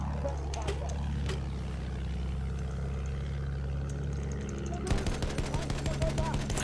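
Battlefield 1 gunfire sounds over a steady engine-like drone, with scattered shots early and a rapid machine-gun burst firing in a fast, even rhythm toward the end.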